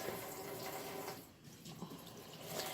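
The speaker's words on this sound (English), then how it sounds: "You fill your pot up with water." Tap water runs steadily into a pot in a kitchen sink, a faint continuous splashing rush with a brief dip midway and no talking.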